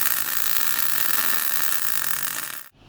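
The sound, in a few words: welding thick metal crossbar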